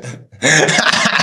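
A person gives a single ordinary sneeze: a short breath in, a brief pause, then a loud, forceful burst that trails off, with no talking.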